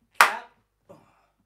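Two hand sounds from a body percussion exercise: a sharp, loud slap-like hit, then a softer, shorter clap about 0.7 seconds later, both close and isolated in silence.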